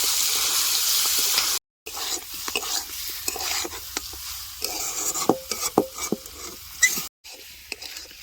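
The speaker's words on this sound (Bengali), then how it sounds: "আর দুই মিনিট কষাবো তারপরে জল দিয়ে দেবো" Meat with raw spices, cooked village-style without oil, is stir-fried in a pot with loud, clattering spatula scrapes and knocks over a low sizzle, close up, with two abrupt brief cuts to silence.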